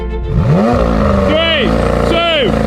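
A McLaren 720S pulls away from a standing start on a track, its engine rising in pitch through two quick upshifts, loud and close, with a second engine in the mix.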